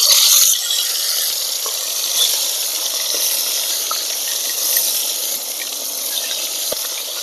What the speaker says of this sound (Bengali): নুন হলুদ মেখে রাখা মাছগুলো আমি এই ছাকা তেলে ভেজে নেব।